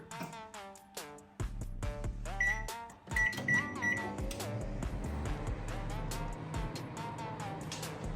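Samsung microwave oven running off a FOSSIBOT F2400 LiFePO4 inverter power station gives a series of short electronic beeps, then a steady humming drone with faint clicks, at moderate level indoors.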